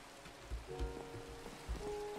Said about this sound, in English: Damn, it's still fucking raining.